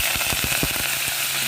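Mustard seeds crackle and pop in hot oil in a pan, dense rapid little bursts over a steady sizzle, close and continuous.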